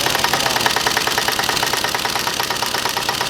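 An air impact wrench hammers continuously on a stuck, non-reverse-threaded nut on a CR pit bike, a rapid, even rattle of blows sustained loud and close without pause.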